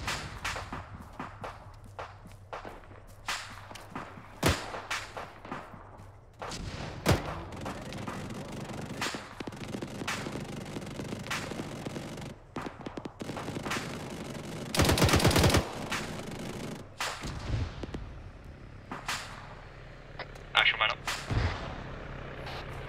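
ArmA 3 combat with scattered gunshots, bursts of automatic fire and heavier artillery-like booms, some close and some distant, under ongoing voice chat.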